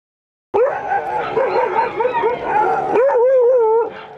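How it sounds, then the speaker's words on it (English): Hundreds of sled dogs at a race in Tahquamenon Country, a loud, dense chorus of barks, yips and howls that starts suddenly after a short silence and fills the air close by. "the sound of a few hundred dogs barking fills the air"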